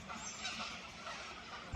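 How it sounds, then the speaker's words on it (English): Purple swamphens call during an evening walk outdoors, harsh honking cries repeating over a steady background hiss, moderately close but fairly quiet. "These ones are called purple hens."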